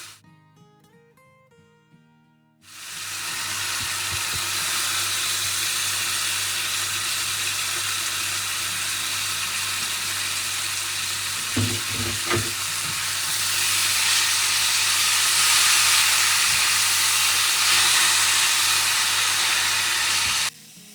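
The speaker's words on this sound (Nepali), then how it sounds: "अब चाहिँ यो बन्दाकोपीलाई मजाले हालिदिने।" Cabbage, rinsed in hot water, tipped into hot oil and stir-fried for veg chow mein, giving a loud, steady sizzle with a few sharp clatters midway; a quiet lead-in comes before the frying starts.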